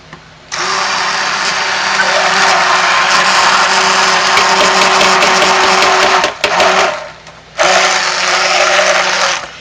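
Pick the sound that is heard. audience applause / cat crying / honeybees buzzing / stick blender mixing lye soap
stick blender mixing lye soap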